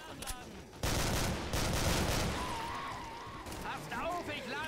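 Dense, loud gunfire bursts rattle continuously in the zombie shooter Killing Floor, with a voice shouting over the shots.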